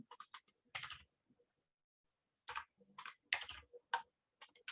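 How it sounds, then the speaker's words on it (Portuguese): Someone types on a computer keyboard up close, producing quick bursts of crisp key clicks separated by pauses, several short flurries in a quiet room. "Deixa eu ir digitando aqui no chat."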